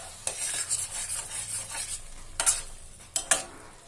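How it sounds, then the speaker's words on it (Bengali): A spoon scrapes and stirs pumpkin sandesh mixture in a pan over a low to medium flame, producing close rubbing strokes with a few sharper metallic scrapes over a faint sizzle, with no talk. "লো টু মিডিয়াম ফ্লেমে নাড়াচাড়া করছি, ঘষা দিয়ে দিয়ে নাড়াচাড়া করতে হবে"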